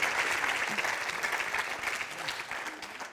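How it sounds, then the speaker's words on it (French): An audience claps continuously, a dense, even patter of many hands, fairly loud and gradually easing off. "Je vais vous laisser applaudir Marie-Hélène Grammatikoff, oui."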